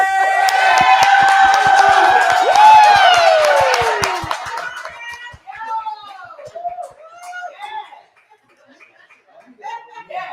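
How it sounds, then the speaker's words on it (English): An audience at a comedy show erupts in loud clapping and cheering with whoops, then the applause fades out after about four seconds and scattered voices and laughter follow. "Y'all big round of applause for Peasy!"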